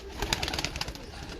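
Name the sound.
Royal Teddy pigeons cooing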